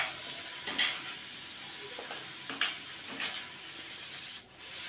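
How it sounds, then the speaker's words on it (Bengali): A spice masala paste for doi katla fish is sautéed in oil in a pan, giving a soft, steady sizzle with a few scraping stirs of a spatula. "এই মশলাটা ভালো করে কষাতে হবে যতক্ষণ না চারিদিক দিয়ে তেল ছাড়ছে"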